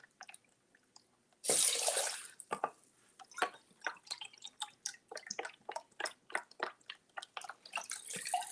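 Chicken broth is poured into a pot of rice on a stovetop, a brief splashing rush followed by a long run of quick irregular drips and trickles, close and fairly quiet.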